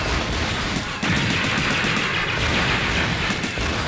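Continuous rapid gunfire from a hulking enemy building in the Sega Saturn game Mobile Suit Gundam Side Story 1, a dense, loud barrage of shots with booming impacts running steadily throughout.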